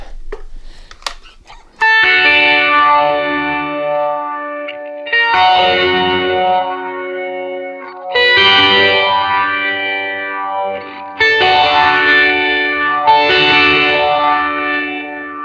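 Thick, distorted electric guitar through a whammy pedal with harmonized octave-up, playing sweeping bends in four loud phrases after a brief quiet start.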